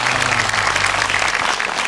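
Brief burst of audience applause at a community gathering in Jakarta, thick and continuous clapping close by with a faint low hum beneath.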